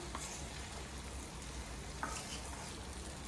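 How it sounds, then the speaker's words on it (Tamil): Mango pickle frying in a pan over a low flame, a soft steady sizzle with faint scraping of a spoon stirring, quiet and close with no talking. "லோ ஃப்ளேமில் வச்சு அதை நல்லா கிண்டி விடுங்க."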